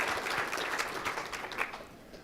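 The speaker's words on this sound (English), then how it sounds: "Let's give them a round of applause." Audience applause welcoming attendees at a conference opening, a dense, even wash of clapping from a moderately sized crowd, steady throughout and slightly distant.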